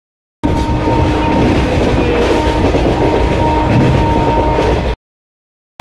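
A passenger train leaving Rampurhat gives a loud, steady rumble of wheels on track, heard from inside the carriage, beginning and ending abruptly.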